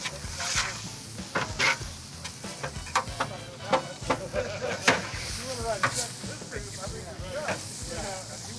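Mushrooms sizzle in a stir fry on a Gather Grill, a steady frying hiss broken by repeated scraping and stirring clicks, fairly quiet and close, with a person talking over it.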